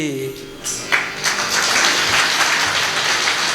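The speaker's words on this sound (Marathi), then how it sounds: "तुम्ही टाळ्या वाजवल्या" Audience applause at a kirtan during an Akhand Harinam Saptah, swelling into a dense, steady wash of clapping after a brief pause, with a voice speaking over it.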